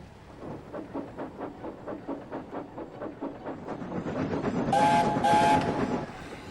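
A steam engine chuffs in a steady rhythm that quickens as it pulls away, with a shrill whistle sounding twice near the end.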